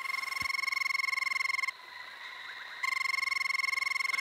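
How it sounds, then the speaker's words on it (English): A rubber frog toy sounds its recorded call: a loud, steady electronic buzzing trill with strong harmonics, briefly dipping to a softer warbling midway before the same trill resumes, with no voices. "Oh, why are you not playing the song of the frog?"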